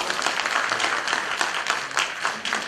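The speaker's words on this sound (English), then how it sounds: "A big round of applause for all of them." Audience clapping at the Brahmaputra Literary Festival in Assam: a steady, dense round of applause from a crowd that fills the whole stretch at even loudness, with no speech over it.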